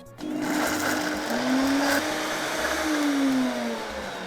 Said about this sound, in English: Crayfish in the blender.